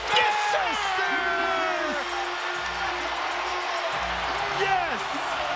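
An NBA arena crowd roars and cheers after a basket, loud whoops and shouts layered over a broad wash of noise, with a commentator's excited voice riding on top.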